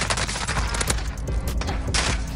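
Rapid gunshots and dense gunfire crackle continuously in a Modern Warfare Warzone match, loud and close with sharp individual shots layered over a busy rumble.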